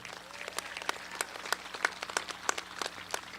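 Audience applause in a hall at a 2023 career center senior celebration, honoring four graduating seniors entering the Marines, Navy and National Guard; steady clapping from a crowd, moderately near, with no talk over it.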